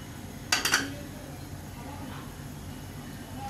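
A spoon clinks against a pot three times in quick succession while chicken sweet corn soup is stirred, followed by a low background hum.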